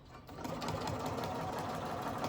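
A sewing machine runs steadily while stitching along the edge of a fabric drawstring bag, a close, continuous mechanical whirring hum that starts quickly and keeps going throughout.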